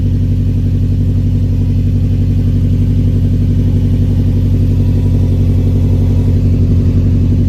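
A 2019 Subaru STI with a Remark muffler-delete axle-back exhaust runs loud and close, a steady, deep, throbbing engine drone that holds constant throughout with no talking.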